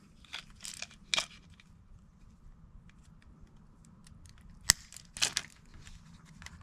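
Two electric tongue jack wires on a Casita travel trailer are snipped with a tool, giving sharp crunching clicks in two separate clusters with quiet pauses between them, close by.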